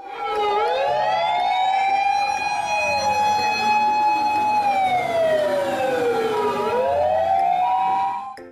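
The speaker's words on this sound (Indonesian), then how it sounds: "Di sini ada mobil pemadam kebakaran." A toy fire engine's electronic siren wails loud and close, its pitch sweeping up and down in a steady repeating cycle.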